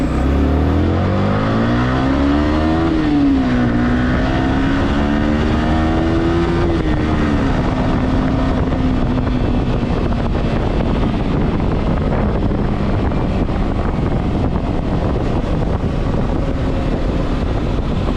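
A motorcycle on upsized Metzeler tyres, 180 rear and 120 front, gets a test ride along a service road. The engine drones steadily and rises in pitch as it accelerates through gears, under heavy wind rush, with no talking.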